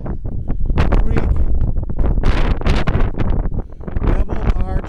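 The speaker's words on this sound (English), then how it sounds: "It is extremely windy today." Strong gusts buffet the microphone outdoors beside a creek at a double stone arch bridge near Sylvan Grove, a loud, continuous roaring rumble with surging swells that swamp everything for the whole stretch.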